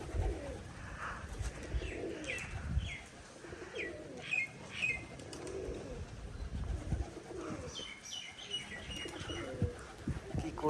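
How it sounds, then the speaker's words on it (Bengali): Rajshahi pigeons are outdoors. One makes faint, intermittent wing claps during an aerial display flight, with cooing and chirping birds nearby and some low background rumble. "বাজিটা শুধু দেখবেন, আর আওয়াজ দেখুন শুধু ডানার।"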